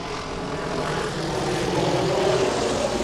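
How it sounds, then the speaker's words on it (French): A border patrol helicopter passes overhead near the US border, its rotor and engine a steady, rushing drone that swells slightly toward the end, with no voices over it. "ils envoient l'hélico, puis la patrouille en voiture"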